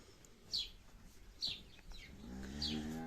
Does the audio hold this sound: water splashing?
no